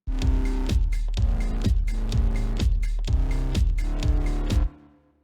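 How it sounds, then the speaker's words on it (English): A punchy electronic drum-and-bass loop: fast kicks and snares over a thick synth bass line, playing loud and steady before cutting off. "So drum and bass sound like this."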